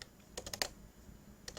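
A computer keyboard is typed quietly up close in a few quick clustered keystrokes while a formula goes into a spreadsheet cell, with one more tap after a pause.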